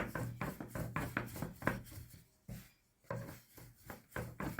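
A rolling pin rolls floured börek dough on a board in a steady rhythm of soft wooden rubbing and knocking strokes, close up and with no talk.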